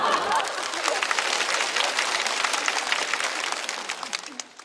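A stand-up comedy audience breaks into a burst of close, crisp clapping with some crowd murmur mixed in, sustained and then tapering off toward the end.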